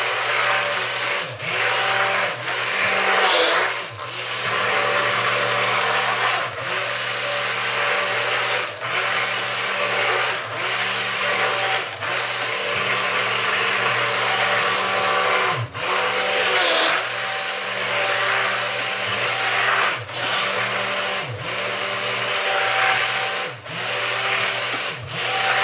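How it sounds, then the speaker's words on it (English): A stick blender whirs steadily while mixing goat milk, oatmeal and lard lye soap, running loud and close for a long stretch with short regular dips as it is moved through the batter. "Stick blender's getting hot, so I'm going to give it a rest."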